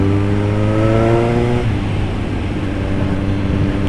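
Suzuki GSR750 motorcycle fitted with an S P Engineering Tri oval exhaust, revving loudly up close with a strong rising engine note for about a second and a half, then settling into a rough, throaty idle rumble, with no talk.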